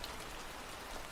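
Steady rain falls on surfaces, a dense, even hiss of drops that stays constant and fairly close, with no voices.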